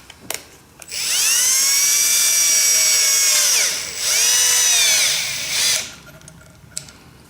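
A power drill with a 9/32 socket whirs in two long high-pitched bursts tightening a hose clamp, with a short dip between, then a brief final spin, close and loud.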